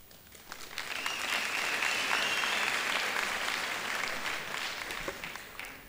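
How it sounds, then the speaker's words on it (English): An audience at a university graduation ceremony bursts into sustained applause, a dense wash of many clapping hands in a large hall that swells and holds steady before starting to fade. "I would like really to have a round of applause"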